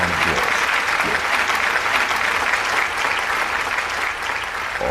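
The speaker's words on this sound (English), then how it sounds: "Give a round of applause." Studio audience on a talk show applauding, a dense, steady wash of many clapping hands filling the whole stretch at close, loud level and easing slightly near the end.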